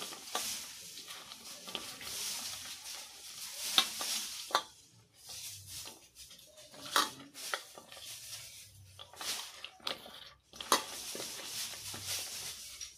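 Sliced, washed potatoes tossed with salt by hand in a bowl, giving a series of soft wet squelching and rustling bursts with short pauses between them.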